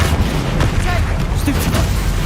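A Stupefy spell cast during combat in Hogwarts Legacy, a dense, loud rumble of magical blasts and booms with a few short tonal chirps, continuous throughout and mixed with a voice.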